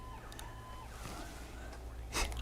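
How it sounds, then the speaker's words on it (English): Faint wailing siren alert tones play from a computer in a storm-tracking room during tornado warnings in the Carolinas, warbling quietly beneath a steady background hum with no talking. "I have that siren on my computer normally to keep my attention"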